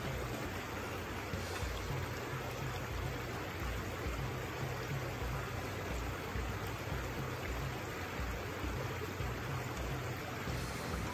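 Water in a stream flows in a continuous broadband rush, steady and fairly close, with no voices and no change in level.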